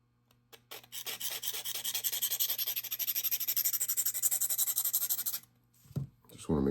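A knife blade is sharpened on small pocket stones with a quick, even run of rhythmic rasping strokes, close and crisp, that stops abruptly before a brief handling clatter.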